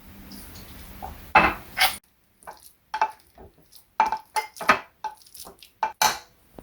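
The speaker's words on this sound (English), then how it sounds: "First, we mash the avocados." Avocados being mashed for guacamole in a bowl, heard as a series of short wet squelches and utensil clinks against dishware, in irregular bursts with brief pauses, close up and without talk.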